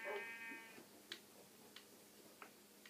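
A Minecraft sheep bleats with a short harmonic cry at the start, followed by several faint, sharp ticking clicks spaced out over the next few seconds in a quiet scene.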